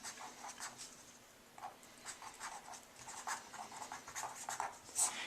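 A pen scratches across paper while a graph is sketched, a faint, steady run of short strokes and ticks close by, with no talking.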